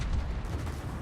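Soviet warship guns firing in a naval video game, a heavy low booming rumble of cannon fire that rolls on without a break for about a second, loud and dense with no clear separate shots.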